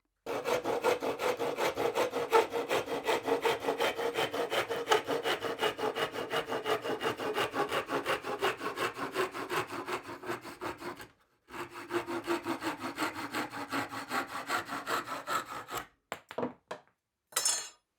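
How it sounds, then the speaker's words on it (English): A handmade Viking saw cuts through wood in steady, rapid back-and-forth rasping strokes, close and fairly quiet. One brief pause breaks the cut midway, and a few last scattered strokes trail off at the end. "it will saw faster and more straight than before"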